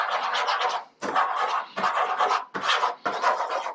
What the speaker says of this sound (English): You hear how it's like louder when you're scraping it like that?